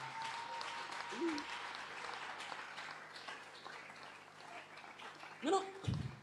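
A church congregation applauds with a soft, sustained patter of clapping spread through the room. Voices call out and talk over it, and a louder exclamation rises near the end.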